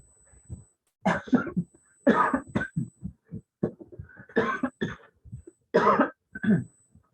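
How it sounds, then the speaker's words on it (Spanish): A close, loud coughing fit: repeated harsh coughs in clustered bursts with short pauses between them. "me dio ataque de tos en medio de la sesión"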